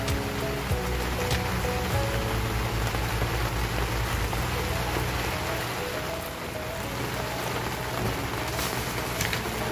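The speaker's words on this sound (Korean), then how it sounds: "비가 많이 오네요." Heavy rain falling outdoors in a garden, a dense, continuous hiss and patter of drops, moderately loud and steady throughout, with no voices.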